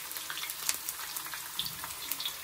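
Egg omelette frying in a pan, a soft steady sizzle and crackle heard up close with no voices over it.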